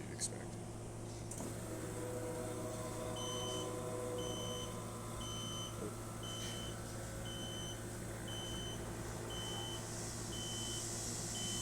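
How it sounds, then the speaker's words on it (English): An Andreja Premium Evo espresso machine's water tank alarm beeps in a steady run of short, evenly spaced high tones over the machine's constant low hum, clear and close. "That alarm is the water tank alarm."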